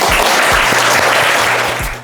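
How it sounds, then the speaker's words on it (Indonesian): Classroom applause in a nursing management lecture at STIKes Buleleng, a short burst of steady clapping from a group that fades out at the end. "Tepuk tangan dulu untuk kalian semua."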